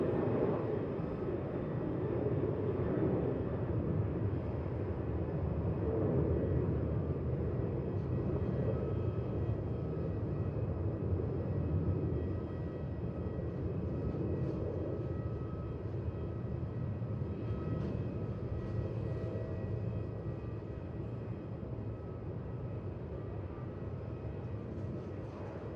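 Qantas 437, a jet airliner landing on runway 16 at Melbourne Airport, gives a steady, broad engine roar. It holds at an even level through the whole stretch, with no voices over it.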